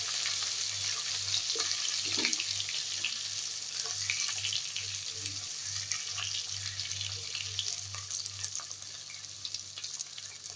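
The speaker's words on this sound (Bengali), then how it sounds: "কুচি করে রাখা পেঁয়াজ আর কাঁচামরিচগুলি দিয়ে দেবো দিয়ে ভালো করে নেড়ে চেড়ে নেবো" Chopped onions and green chilies fry in oil in a pan for a chicken curry, giving a close, steady hissing sizzle with a low pulsing hum underneath.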